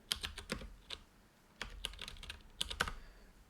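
Someone types a Unix terminal command on a computer keyboard, with quick irregular bursts of clicky keystrokes, a short pause in the middle, then another flurry of keys and firmer taps, close and fairly quiet.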